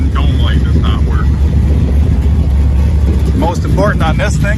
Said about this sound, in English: let's take a listen to the motor. Listen to that sweet thing.